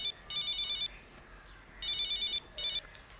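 A telephone rings in three bursts of rapid electronic trills, two long and one short, at moderate loudness over a quiet room.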